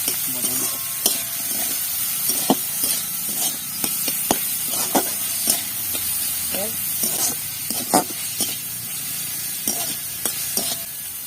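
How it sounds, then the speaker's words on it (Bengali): Onions fry in a pan until light brown, with a steady close sizzle and hiss and frequent scraping stir clicks throughout. "এবার পেঁয়াজটাকে আমি হালকা বাদামি করে ভেজে নেব"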